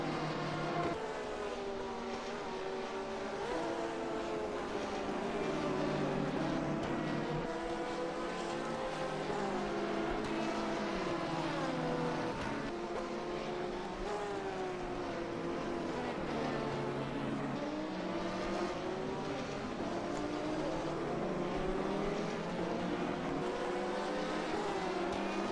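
Race cars, a McLaren and a BMW, roar continuously in a racing video game, engines rising and falling through gear changes as they battle closely, loud and sustained with no talking.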